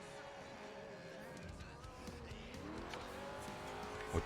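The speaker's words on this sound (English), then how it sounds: "gotta manhandle this car to get it to slide." A Pontiac Firebird muscle car sliding in Forza Horizon 4, its engine droning steadily while the tires squeal in wavering tones through the drift. A voice talks quietly beneath the car noise.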